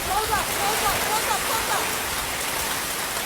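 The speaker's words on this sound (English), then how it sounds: "the sound of hail hitting roofs and vehicles as a continuous rumble of thunder" Dense, steady hiss of hail striking roofs and vehicles in a severe hailstorm in Cardston, Canada, a continuous roar with faint voices in the background.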